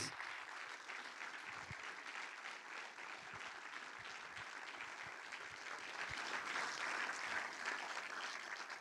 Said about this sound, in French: s'il y a des applaudissements nourris ce soir, c'est pour l'équipe du FFFH